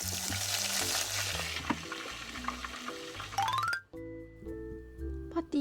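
Oil frying in an electric deep fryer gives a steady hissing sizzle under upbeat background music, stopping abruptly near the end while the music carries on.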